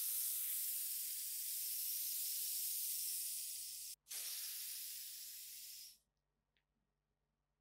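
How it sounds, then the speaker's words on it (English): Deodorant sprayed from an aerosol can into the air in a dark room, a loud steady hiss lasting several seconds with a brief break midway before cutting off. "Let's turn the light off and examine the laser by using this deodorant spray."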